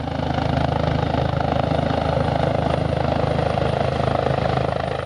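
Helicopter carrying a dignitary approaching a runway, its rotor thrum steady and loud throughout with no voices over it.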